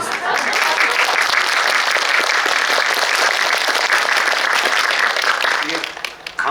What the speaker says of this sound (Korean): 이게 강요가 아니라 그냥 진심으로 하는 박수이죠.